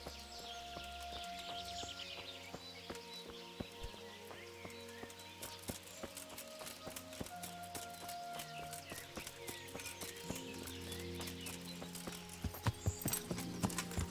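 Horse hooves clip-clop steadily in the medieval game Kingdom Come: Deliverance, a brisk repeated clatter at moderate distance over soft ambient background, with no talk.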